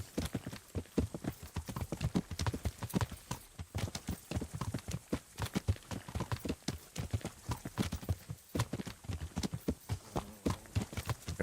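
Horse hooves clip-clop steadily while riding in the video game Kingdom Come: Deliverance, a continuous rhythmic gait of dense close thuds, fairly quiet, with no talking.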